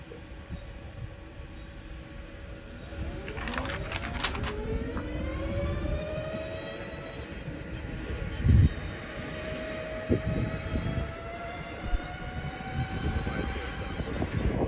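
Audi electric Dakar rally car passing at the 2022 Dakar prologue, a rising and falling electric whine sweeping by amid outdoor crowd noise and wind, with some louder thumps and distant voices.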